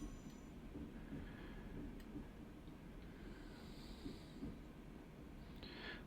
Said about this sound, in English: Let's open the windows and get a bit of trackside noise.